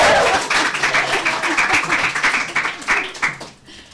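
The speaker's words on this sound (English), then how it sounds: "Come on, clap it up." Audience applause at a panel discussion on race and ethnicity: dense, steady clapping from a nearby crowd throughout, tapering off and fading out at the very end.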